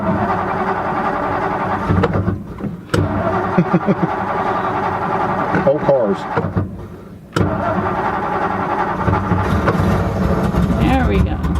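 A 1956 Ford Thunderbird with a Y-block V8 cranks and fires up, catching and stumbling a couple of times before settling into a loud, rough idle close by, with someone talking over it.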